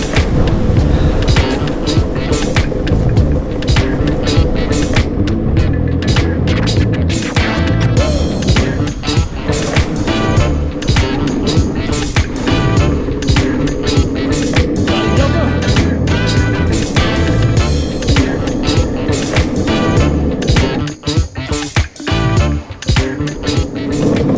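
Skateboard wheels roll steadily along a cycle path in the Val d'Oise, a loud continuous rumble with scattered clacks and bumps from the pavement, close to the board and with no talk.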